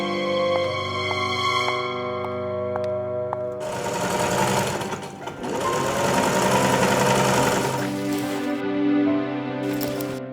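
A sewing machine stitching a dress, running steadily at a loud, close level through the second half, with a music-like tonal passage first and no talk.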